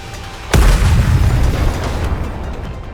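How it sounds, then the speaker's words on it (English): A heavy missile explosion from the NIKKE Stellar Blade collab game booms suddenly, followed by a loud rumbling roar that slowly dies away. "The missiles have no homing ability. It's just firing wildly!"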